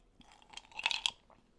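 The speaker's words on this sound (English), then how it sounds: "Are you hearing me sip my drink?" A close, quiet slurping sip of soda, a short burst of wet sucking sounds lasting about a second, heard alone.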